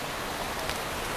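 Steady rain falls in a dense, even hiss of broadband noise with faint patters, constant and alone without speech.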